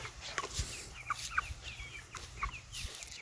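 Several young farm chickens cluck softly in short, irregular calls, close by over low background noise.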